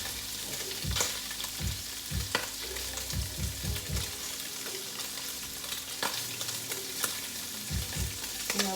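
Chicken pieces browning in a frying pan for Cajun chicken pasta sizzle steadily while a utensil scrapes and knocks against the pan in irregular stirring strokes, close up and with no talk.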